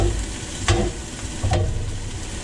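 Vegetables stir-frying with rice in a cast iron skillet, a steady sizzle throughout with two brief louder bursts of stirring or scraping.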